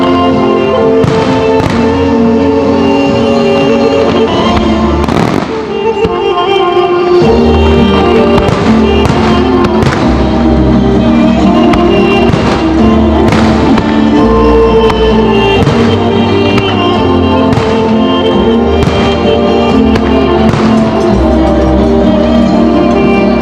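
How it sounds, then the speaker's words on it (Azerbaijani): A competitive fireworks display opens Azerbaijani Culture Days in Cannes, with loud, repeated bangs and crackling bursts over music by Azerbaijani composers that plays throughout. "bu ilki atəşfəşanlıq həm də müsabiqə xarakterli olması ilə seçilir"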